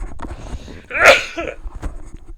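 One close sneeze bursts out sharply in the middle, with softer breathy sounds and faint movement before and after it.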